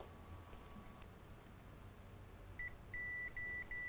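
A multimeter in continuity mode gives short, bright electronic beeps while probing traces on a laptop circuit board, several clipped tones in quick succession near the end over a quiet room.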